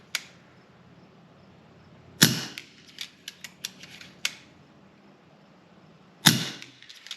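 Shots from a Brocock Ghost .177 air rifle hit a target: sharp, separate cracks spaced a few seconds apart, each followed by faint clicks and small rattles, close and otherwise quiet.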